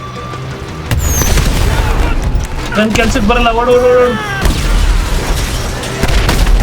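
A car explodes in the video game GTA 5 with a deep boom and rumbling under loud, excited talking that runs through most of the stretch.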